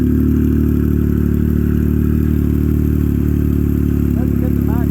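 An engine holds a loud, steady drone as it is pushed toward maximum RPM, a constant mechanical hum with rattly overtones and no pause throughout.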